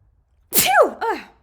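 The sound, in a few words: sneeze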